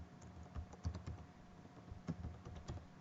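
Quiet, rapid keystrokes on a computer keyboard tap in an irregular clatter of soft clicks, faint and close, with no talking.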